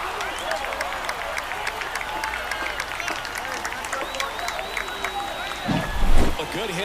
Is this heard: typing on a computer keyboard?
no